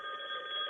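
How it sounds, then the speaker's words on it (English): A phone line rings in with an incoming call, a short steady electronic ringing tone heard alone at moderate loudness, cut off after under a second. "That's our phone lines, Brian."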